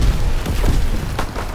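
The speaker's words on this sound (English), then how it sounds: "Tossing grenade!" A grenade blast in a military shooter game, a broad low boom that rumbles throughout, with a few sharper cracks near the end amid battle noise.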